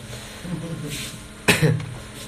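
A single sharp cough bursts out midway, preceded and followed by low murmuring voices in a quiet room.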